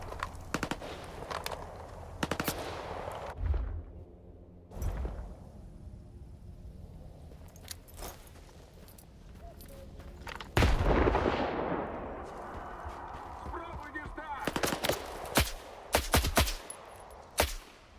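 Gunfire in S.T.A.L.K.E.R. 2: scattered single shots and short bursts, sharp and loud, spaced irregularly with quieter stretches of ambient noise between them and a heavier cluster of shots toward the end.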